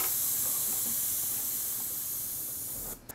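Paint sprays from an airbrush onto a sneaker midsole, a steady, close hiss at moderately low pressure that stops abruptly at the end.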